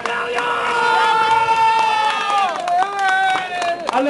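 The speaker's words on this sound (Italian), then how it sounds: "un applauso grandissimo" A crowd at a prize award ceremony in Vicenza for the Premio Vergani Ballotta 2010 cheers loudly, with many voices whooping and shouting over the clapping throughout.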